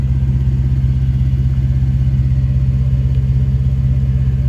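A 1987 Chevrolet R10 regular cab short bed pickup idles on its stock factory exhaust, tailpipes removed, giving a steady, loud low-pitched rumble with an even throb throughout and no voices.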